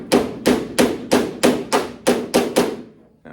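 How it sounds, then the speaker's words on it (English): Eight sharp metallic hammer-and-dolly strikes on the trunk deck sheet metal of a 1969 GTO Judge at an even pace, each ringing briefly before the next, then silence. "we're going to get the hammer and the dolly"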